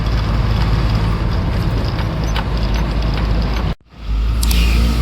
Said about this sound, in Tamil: இந்த நேரத்தில் கூட அவ்வளோ டிராஃபிக் ஆகுது